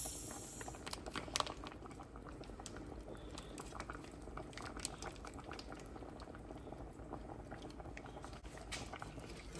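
A pot of Velveeta cheese sauce simmers on a low stove, giving a faint, steady bubbling and popping with occasional louder blips, close by and without speech.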